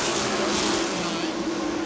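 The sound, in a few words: NASCAR stock cars racing at Dover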